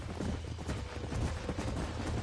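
Horse hooves clip-clop at a steady trot in the Red Dead Redemption video game, a continuous close rhythmic clatter with no talking.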